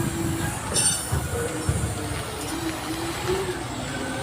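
Train 598 from Ban Kradon to Map Ta Phut rolls through Thanon Chira Junction station with a steady close rumble of wheels on rails, faint squeals and clicks, and a little background talk.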